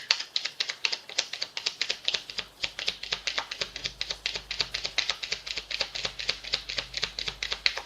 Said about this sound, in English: I want another shuffle.